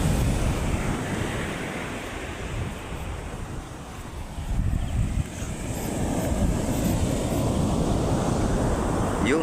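Large typhoon-driven ocean waves from Typhoon Kristine roll and crash continuously on the Calintaan, Occidental Mindoro shore, a heavy low roar of surf mixed with gusting wind buffeting the microphone.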